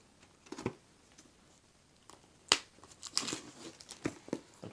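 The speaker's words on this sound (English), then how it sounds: "We'll cut this plastic and check out what's inside. Try to cut the plastic, not the game." Plastic shrink wrap is cut and torn off the box of the board game That's Pretty Clever, giving quiet, sporadic crinkles and short rips close by, with no talking.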